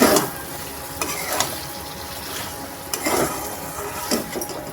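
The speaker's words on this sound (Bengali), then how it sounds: "মাটনটার সঙ্গে মশলাটাকে আরেকটু কষাবো।" Mutton being stir-fried with spices in a pan, a continuous sizzle broken by several scraping, clattering stirs of the spoon against the pan, close and fairly loud.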